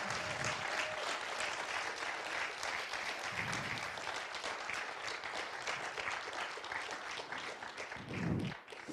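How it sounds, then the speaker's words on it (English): A town hall audience applauds in a steady, moderately distant wash of many hands clapping that holds throughout and fades slightly at the end. "So let's have a real round of applause for Matthew and William."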